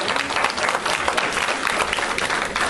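A conference audience breaks into dense, sustained applause, many hands clapping together in an even wash of sound that fills the room throughout the short burst.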